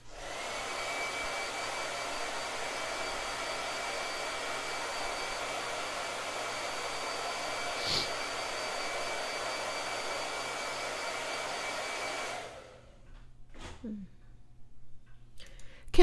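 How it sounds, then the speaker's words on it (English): A blow dryer runs steadily and close, giving a continuous whooshing hum for about twelve seconds before it shuts off, followed by a few faint clicks and rustles. "one last blow dryer"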